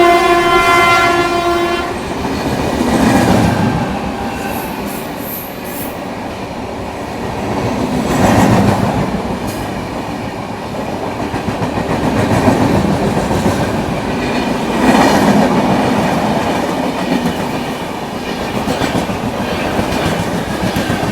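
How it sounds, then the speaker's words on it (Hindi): A passenger train overtakes the Farakka Express in India, a loud, steady rush of rolling wheels with rhythmic clickety-clack and a horn blast near the start, heard up close from aboard with no talking. "भाई अपनी फरक्का एक्सप्रेस को पड़ रहा है एक और ओवरटेक"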